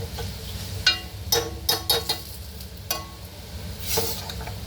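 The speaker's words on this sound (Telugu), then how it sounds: "ఇప్పుడు ఆల్రెడీ పప్పు వేసేస్తున్నా, అయినా వేడి కదండి స్టవ్ అంతా అయిపోయింది." Dal tipped into a hot pan of sizzling tempering, with a few sharp clinks and scrapes of a spoon against the pan over a steady low sizzle, close and fairly loud.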